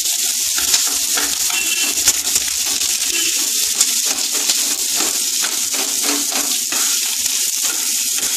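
Dried red chillies and slit green chillies sizzle in hot oil as they are stirred in a pan, a steady close crackle broken by repeated scraping and tapping of the spoon, with no talking.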